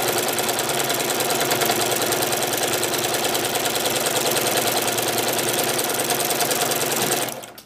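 A sewing machine stitches straight lines across a quilt, running fast in a steady, continuous mechanical whir with rapid needle rhythm throughout before stopping abruptly near the end.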